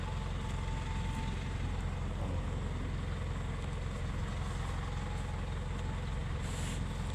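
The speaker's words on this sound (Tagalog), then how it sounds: "Ayan yung aking truck. Hirap na hirap nang bumaba." A dump truck with its hydraulics gone labors down a slope near the Tumana River, its heavy diesel engine droning steadily close by with a broad, rough rumble and no talk.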